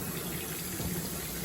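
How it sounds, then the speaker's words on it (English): Lukewarm water runs steadily from a tap or shower, a continuous soft hiss while conditioner is rinsed out of hair, with no talking. "So normally I rinse with like lukewarm water"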